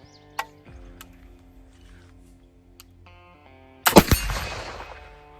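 A black powder gun fired with Cottonwood powder: one sharp, loud outdoor report followed by a short rumbling tail, after a stretch of quiet background with a faint tone.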